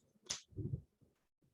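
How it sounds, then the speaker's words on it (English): A single sharp finger snap in a quiet classroom, close and crisp, followed by a brief low murmur and faint shuffling. "When I snap my fingers"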